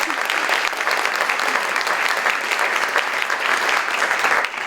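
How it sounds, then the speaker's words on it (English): Dense audience applause in a Black theater during a book week event, loud and continuous for several seconds with no speech over it. "yes, clap for that."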